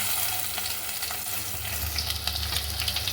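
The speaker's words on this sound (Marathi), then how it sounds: "हा कांदा घातला" Onion dropped into hot oil for a red pumpkin sabzi sizzles loudly and steadily at close range, with a brief stir and a low hum underneath.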